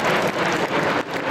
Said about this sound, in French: on peut applaudir le box avant